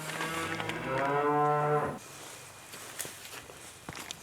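A cow expected to calve moos on a ranch at night, one long, loud, close call lasting about two seconds, followed by quieter shuffling and light footstep-like sounds.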